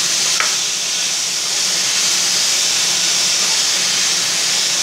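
Chopped banana flower frying in oil for a Tamil poriyal, giving a loud, continuous close-up hiss of sizzling that holds evenly throughout.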